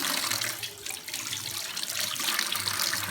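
A tap runs steadily while raw chicken is washed beneath it, giving a continuous close gush and splash of water with faint trickling variations.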